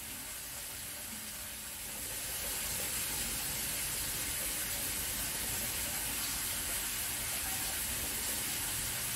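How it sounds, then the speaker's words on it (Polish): Steady, loud rush of hot water pouring from a fully opened tap fed by a plate heat exchanger and 1000-litre buffer tank, growing stronger after a couple of seconds and then holding constant. "Kran otwarty na maksa."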